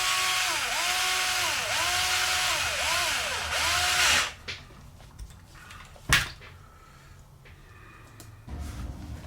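A power screwdriver whirs close and loud in repeated rising and falling pulses, driving screws into moon buggy wheels, then cuts off, leaving a sharp knock and quieter handling noises.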